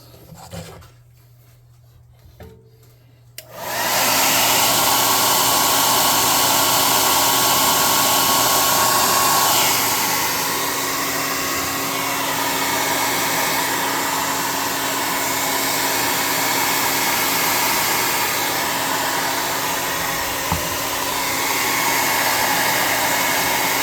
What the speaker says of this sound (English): Now we need to do one more thing, and that's hit these with an air gun.